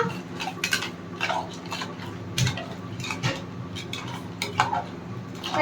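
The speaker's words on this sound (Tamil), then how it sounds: "இப்போ கிண்டிக்கலாம் ஒரு வாட்டி." A spoon scrapes and clinks against a cooking pot as food is stirred, giving a run of close, quick metallic taps and scrapes over a faint background hum.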